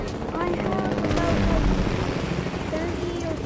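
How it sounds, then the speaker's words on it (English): Helicopter passing overhead, a loud steady rotor drone with a chopping pulse that fills the whole stretch, heard outdoors while people talk over it. "Oh no, the helicopter passed."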